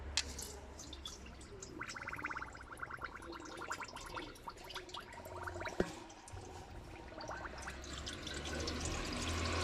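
Hot, highly pressurized oil drains out of an opened machine, gurgling, trickling and dripping in uneven spurts over a faint background, growing fuller toward the end with no talk.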